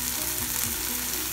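Fish frying in a pan of oil, a steady close sizzle that runs throughout with no talking.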